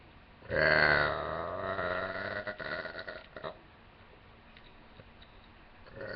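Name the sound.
burping after drinking soda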